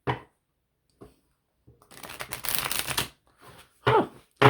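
Riffle shuffling of a tarot card deck, heard close and crisp as a dense burst of card flutter, with a few sharp taps and knocks before and after it.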